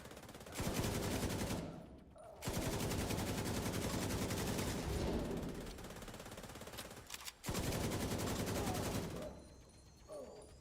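Sustained automatic gunfire rattles loudly in The Division 2, with long dense bursts broken by short pauses across the stretch.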